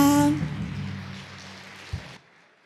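Applause from a congregation at a church Christmas service, a steady wash of many hands clapping for about two seconds after a musical note fades, then stopping abruptly.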